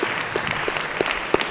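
Audience applause at a live Los Angeles talk event, a steady crowd clapping with a few sharper individual claps standing out in a regular rhythm, moderately loud and without talk.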